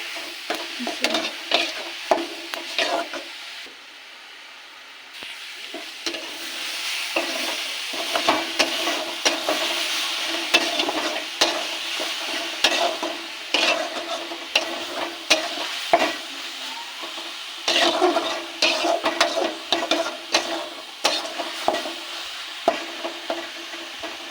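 Ash gourd fried with salt, cumin powder and turmeric powder is stirred in a pan, with steady sizzling and repeated scraping strokes throughout, close and fairly loud, with one brief quiet gap.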